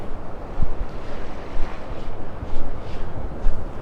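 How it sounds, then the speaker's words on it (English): Surf rolling onto a beach at North Naples, Florida, with steady wind buffeting the microphone; continuous broad wash of waves with gentle swells, no talk. "We're at the beach and it's always beautiful."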